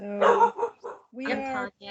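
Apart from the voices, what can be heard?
dog barking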